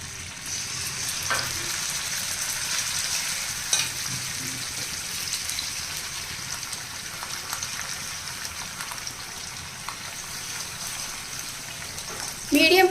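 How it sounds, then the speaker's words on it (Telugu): Masala-marinated fish pieces fry in hot oil in a pan, a continuous moderate hiss and sizzle with faint stirring touches and a louder burst of crackle right at the end. "ఆయిల్ కొంచెం వేడైన తర్వాత ఈ చేప ముక్కలు వేసుకోవాలి"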